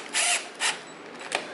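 Power drill driving Kreg pocket screws into walnut, three short close whirring bursts, the first longest and the last brief.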